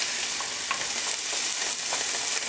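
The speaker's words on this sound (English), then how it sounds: "See all that oil splattering up?" Chicken frying in a hot pan with oil splattering, making a loud, dense, continuous sizzle and crackle up close, with no pauses.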